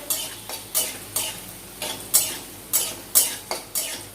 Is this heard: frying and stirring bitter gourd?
yes